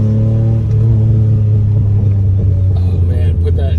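A DeLorean engine with stainless steel headers and exhaust rumbles steadily with a deep, throaty exhaust note, loud and close, while a voice talks over it.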